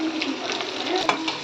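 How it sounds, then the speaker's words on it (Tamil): Onions and crushed garlic sizzling in a pan while being stirred, a steady close hiss with faint scraping of the utensil, no voices. "வெங்காயம் நல்லா வதங்கட்டும்."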